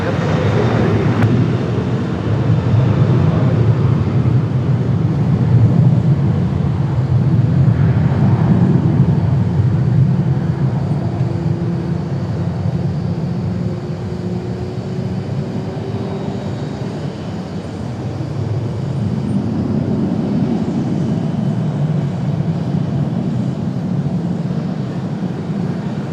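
Airliner taking off from runway 5 left at Raleigh-Durham International, a loud, sustained jet engine roar that swells and then eases as the plane passes, heard from a distance outdoors.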